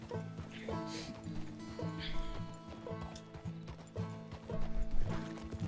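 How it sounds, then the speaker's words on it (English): Horse hooves clip-clop steadily as a horse pulls a stagecoach in the Red Dead Redemption II video game, set against a busy bed of game music and ambience, with a brief whinny. "we're stealing a stage. They call it a stagecoach. It's horse and buggy."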